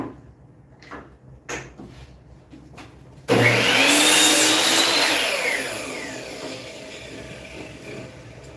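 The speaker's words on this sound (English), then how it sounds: "I'm going to go cut that on the table saw. I mean on the miter saw." A miter saw slices through a wood workpiece in a workshop: after a few quiet knocks and handling sounds, the blade bursts in loudly and steadily, whining through the cut for a few seconds before spinning down.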